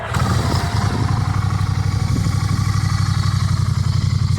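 A Honda CMX 1100 Rebel motorcycle engine idles close by with a loud, steady, deep pulsing rumble and light mechanical clatter.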